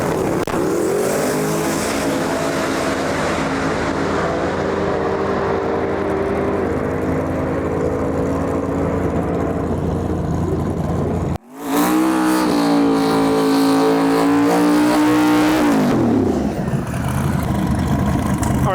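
Street drag race cars accelerate hard down the strip at a Lights Out 16 qualifying event, one loud sustained engine roar followed after a brief break by another rising, revving pass that fades out near the end.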